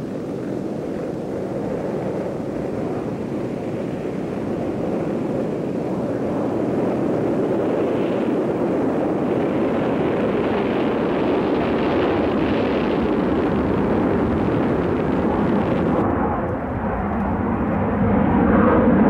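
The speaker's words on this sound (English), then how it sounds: "At exactly 8:38, the Valkyrie took to the air for the first time to begin a series of epoch-making test flights." Loud, continuous roar of the North American XB-70 Valkyrie jet bomber taking off and climbing away on its first flight, a steady broadband rumble that swells slightly and holds throughout with no talk.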